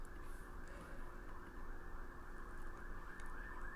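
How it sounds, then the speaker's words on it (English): Sirens wail steadily outside at a distance, a continuous tone carrying through the whole stretch with no voices over it. "Sorry about the sirens."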